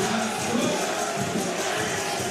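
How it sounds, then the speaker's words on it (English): Basketball crowd at a 3x3 World Cup final roaring for Serbia, a dense, continuous wall of cheering and shouting from a packed arena, loud throughout with no clear pauses. "You can hear that crowd going."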